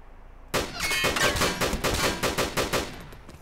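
Gunfire in the survival game DayZ: a sudden, loud, rapid string of shots, roughly a dozen in quick rhythmic succession, close and sharp with no talking over it.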